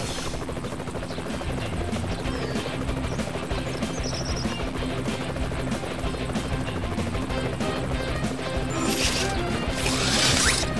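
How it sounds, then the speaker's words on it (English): Helicopter rotors from the PC game PAW Patrol Mighty Pups during a rescue, a steady, loud, close drone throughout, with a bright crashing burst near the end. "Help Sky use her helicopter to rescue the citizen and get them to... Rescue the citizen"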